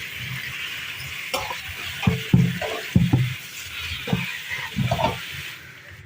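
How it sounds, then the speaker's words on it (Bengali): Shapla water lily stems are washed by hand in water, with irregular splashing and sloshing that rises and falls over several seconds, close and moderately loud. "এই যে জল দিয়ে ধুয়ে নিচ্ছি বন্ধুরা, ভালো করে ধুয়ে নেব"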